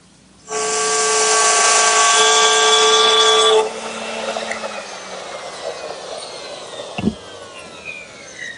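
A router cutting a groove in wooden rails for raised panels sends out a loud, steady, high whine for about three seconds. The tool then winds down into a fading descending hum, and a sharp knock follows.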